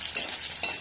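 Malabar spinach frying in oil in a village kitchen, a steady close sizzle with two brief brighter bursts as the leaves are stirred, no voices.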